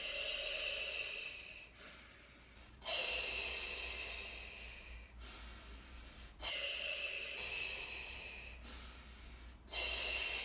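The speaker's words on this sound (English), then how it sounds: "Inhale, exhale." Slow, deliberate breaths during a core exercise on a small barrel, each long hissing inhale and exhale lasting a few seconds, close and fairly loud, repeated in a steady cycle with brief quiet gaps between.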